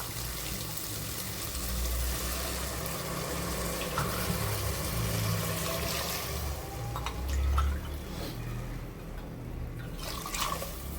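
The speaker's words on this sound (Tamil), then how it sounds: "இந்த டயத்தில் வந்து தண்ணியை சேர்த்துக்கலாம்." Water is poured into a pan of half-cooked, sautéed vegetables for a veg biryani, a soft steady gushing and sizzling wash of liquid with faint clinks, fading slightly toward the end.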